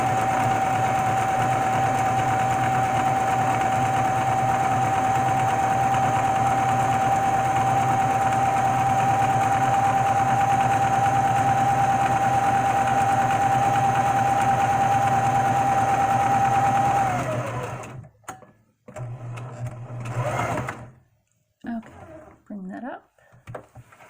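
A sewing machine stitches fabric with a steady, even whine for about seventeen seconds, then stops, leaving scattered handling noises.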